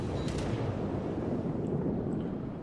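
A torpedo salvo slams into the warship Congo in a naval video game, producing a dense, loud, continuous rumbling blast that holds steady and fades slightly at the end.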